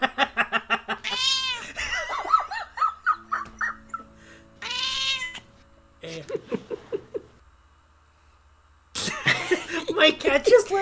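A pet cat meows loudly and repeatedly in drawn-out calls, close to the microphone, with a few pauses in between.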